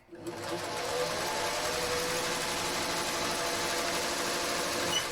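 Sewing machine stitching a vinyl zipper pouch, a fast steady motorized whir with rapid needle clatter running continuously at close range.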